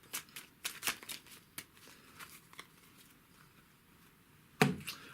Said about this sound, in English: you simply shuffle into the deck the companion cards